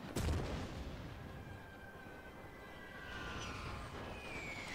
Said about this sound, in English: Some of their artillery strikes is actually reaching us.